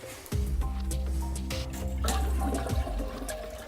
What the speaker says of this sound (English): hold your handle down so you can get as much of that water out of there as possible